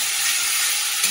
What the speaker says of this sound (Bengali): দিয়ে মশলাটা একটু কষে নিই